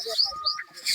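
Sparrows chirp in short, bright bursts on an organic farm, close by, over a brief stretch with a voice faintly present.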